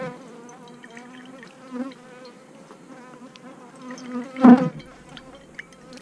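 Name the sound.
honey bees buzzing around a hive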